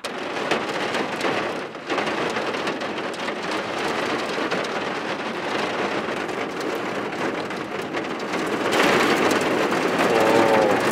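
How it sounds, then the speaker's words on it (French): Heavy rain pounds steadily on the roof of a parked, converted Dacia camper car during a long thunderstorm, a loud dense roar that swells even louder near the end, with rumbling mixed in. "Ça fait 2 heures. 2 heures qu'il y a de l'orage."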